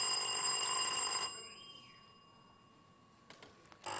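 A quiz contestant's electronic buzzer bell rings in a loud, steady electronic tone for about a second, then cuts off, followed by quieter room noise and a short renewed burst of ringing near the end.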